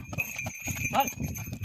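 Quick hoof clip-clops from a horse ring out under excited talking and shouting, with a faint bell-like tone running through.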